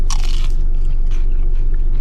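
A crisp, loud crunch as a fried vegetable sambousek pastry is bitten into up close, followed by softer chewing crackles.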